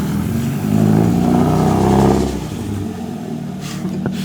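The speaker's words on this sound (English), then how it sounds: "that's my first time hearing the car from the third person" A Nissan 240SX S14 with a freshly rebuilt engine drives up in a parking lot, its engine note swelling loudly as it nears, then settling to a steadier, quieter running sound.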